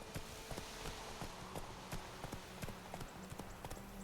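Horse hooves clip-clop at a steady walking pace in The Witcher video game, a regular run of crisp, close hoofbeats over a soft ambient background, with no talking.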